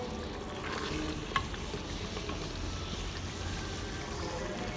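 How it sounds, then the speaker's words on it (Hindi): Steady sizzling and frying fills the clip as a small teacup of water is poured into a hot pan of beef and okra curry, with a brief clink near the start; no talking. "मैं एक छोटा चाय का कप पानी डाल रही हूँ।"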